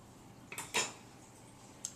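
A lid comes off a blender jar that holds a thick shake, giving a few short plastic clicks and one louder clattering knock, then a faint tap at the end, all close by in a quiet room.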